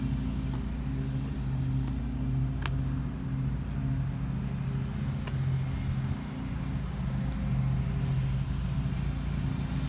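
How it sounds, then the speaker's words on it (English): Pickup truck decorated as an art truck with figurines on the hood, heard from inside while driving: a steady, loud low engine and road rumble holds throughout, with a few faint clicks and no talking. "my pickup truck that I'm driving"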